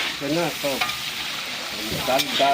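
Whole spices (cardamom, cinnamon) with green chilli and tomato fry in hot oil for a vegetarian pumpkin curry cooked in bulk for 40 people, giving a steady close sizzle with stirring throughout.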